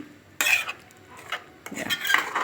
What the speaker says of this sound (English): Giving it a good mix.